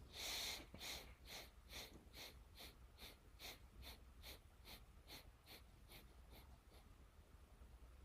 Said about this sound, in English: Once again, 12 to 15 short sniffs.